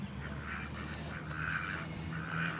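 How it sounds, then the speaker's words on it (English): Several large ducks quack at a park in Perth, Western Australia, in a few rough, repeated calls at a moderate distance over steady outdoor ambience. "Lots of little wee birds. Yeah, so nice big ducks there."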